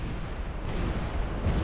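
Artillery fire in a Total War battle: a short burst of deep, distant booms and rumbling cannon shots, steady and muffled, with no voices.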